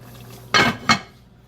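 A metal lid set back onto a cooking pot of pork ragout simmering on a stove, two quick close clanks a moment apart over a faint hum.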